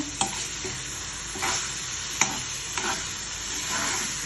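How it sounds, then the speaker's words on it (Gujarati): Kantola vegetable curry cooking in oil, a soft steady sizzle broken by several scraping stirs of a spoon against the pan at irregular intervals, nearby and moderately quiet. "અને થોડું તેલ છૂટું પડે ત્યાં સુધી આપણે એને હજુ થોડું થવા દઈશું, એટલે આપણું કંટોલાનું શાક તૈયાર થઈ જશે."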